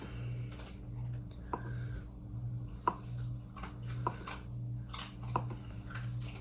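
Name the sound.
knife slicing on a cutting board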